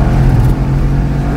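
A Ford race car at a racing school, driven on track as the driver rolls back onto the throttle, produces a loud, close engine drone with a low steady pitch that barely changes across a short burst.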